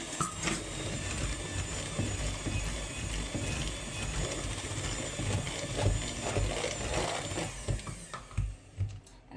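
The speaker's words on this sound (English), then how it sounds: "Continue whisking." Rapid rattling clicks of a whisk beating banana bread batter in a bowl, a dense continuous scraping texture that turns choppier and stops intermittently near the end.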